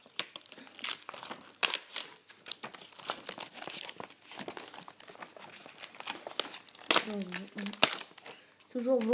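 Crinkling and tearing of packing tape being peeled off in short, sharp rips, close up, with a brief voice near the end.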